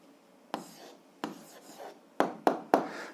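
Pen strokes scratch across paper as an algebra answer is written out by hand: a run of short, close, distinct scribbling bursts, the last three sharper and quicker, with no talking.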